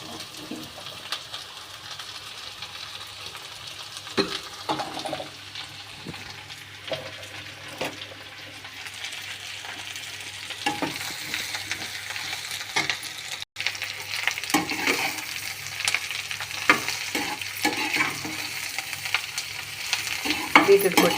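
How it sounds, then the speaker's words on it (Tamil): Beetroot and sliced onions fry in a pan while being stirred, giving a steady close sizzle broken by repeated scraping and turning strokes throughout, with no talking. "பீட்ரூட் கொட்டி அடியில் இருக்கிற வெங்காயம் மேலே வர மாதிரியும், மேலே இருக்கிற பீட்ரூட் அடியில் போகிற மாதிரி கிளறணும்."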